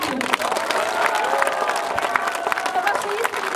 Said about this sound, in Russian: за ваши жгучие, бурные аплодисменты